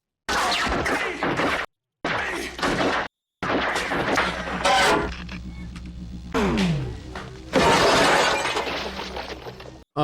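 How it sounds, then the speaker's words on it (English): A head smashed through a glass shop window in the 1987 film RoboCop: loud crashing shatter amid dense action noise, bursts and impacts, with voices talking over the film audio. "Put your head right through a glass window like that?"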